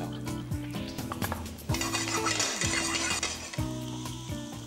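Garlic sizzles in hot fat in a frying pan, with a steady crackling hiss, while a utensil clinks and scrapes against the metal pan several times close by.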